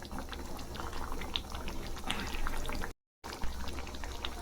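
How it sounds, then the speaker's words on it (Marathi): Paneer bhaji simmering in a pan over a low flame gives a steady, soft bubbling with faint pops, continuous at low level apart from a brief gap. "आता आपली भाजी 10 मिनिटं मंद आचेवर आपण शिजवून घेऊ"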